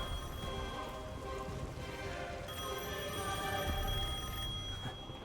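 A telephone rings in the Devil May Cry 5 video game, a steady electronic trill repeating over a dense, busy bed of game ambience and music at moderate loudness.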